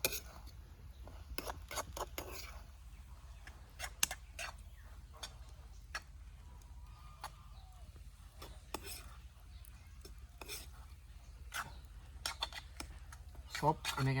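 Grated carrot halwa stirred in a pan, with a run of light scraping ticks and clinks from a spoon against metal, close and soft, with occasional talk over it.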